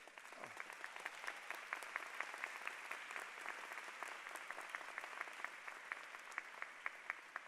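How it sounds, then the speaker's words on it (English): Sustained applause from a large audience at a university graduate commencement ceremony, dense rapid clapping with sharper individual claps standing out, steady throughout and heard from a distance. "Please stand and give them a round of applause wherever they are."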